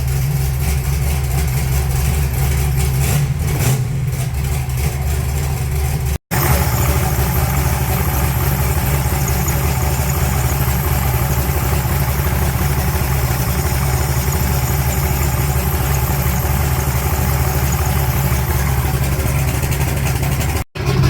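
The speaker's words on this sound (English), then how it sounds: "This thing sat forever and I just barely hit the starter and it started." A 1980 Pontiac Trans Am fitted with a blow-through carburetor idles steadily after starting up, a continuous, fairly loud low engine rumble that runs unbroken apart from a brief dropout partway through.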